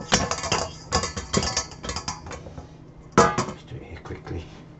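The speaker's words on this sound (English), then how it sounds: "We're going to sieve the big bits out of the sauce" Chicken sauce for Alsatian chicken is poured through a metal sieve over a bowl, with repeated clinks and scrapes of utensil against sieve and dish, a sharper clatter near the end, and faint background talk.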